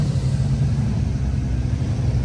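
A custom car's engine rumbles steadily at a car show, a deep continuous low idle-like drone that stays level and fairly loud for the whole short stretch, with no voices.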